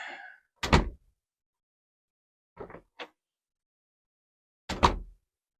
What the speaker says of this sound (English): so now shut the door into my room